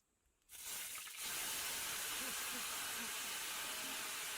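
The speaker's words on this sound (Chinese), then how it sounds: "当锅中的油滋滋作响时，她将一盘蝉轻轻倒入" Oil in a pan frying cicadas breaks into a loud, steady, broad hiss after a quiet start, continuing without pause close by.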